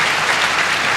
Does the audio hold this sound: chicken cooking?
no